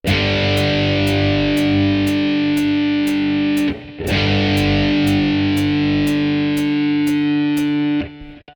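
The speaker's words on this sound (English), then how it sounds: "When you play a power chord, you get that distinctive rock sound, especially if you put a bit of distortion on it." Electric guitar power chords played through heavy distortion ring out loud and sustained, struck once at the start and again at about the middle and the end, with no one speaking.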